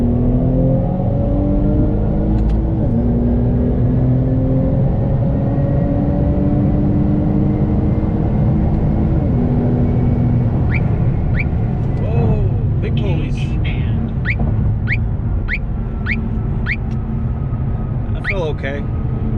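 A tuned flex-fuel Infiniti Q50/Q60 accelerates hard on a highway, with a loud engine and road roar climbing through rising rev sweeps and gear changes, and repeated short clicking ticks near the end.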